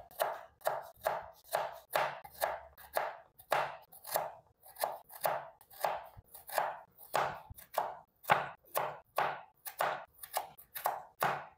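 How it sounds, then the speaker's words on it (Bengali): A knife chops potatoes into thin slices on a board for crispy potato pakora, a steady run of about two dozen sharp, close cuts in an even rhythm with no talk. "এখন আমি আলুগুলো চিকন চিকন করে কেটে নেব"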